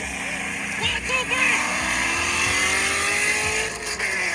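A car at a street car meet accelerating hard through its gears, its engine revving with rising pitch that drops at each shift, close and loud, with people talking over it.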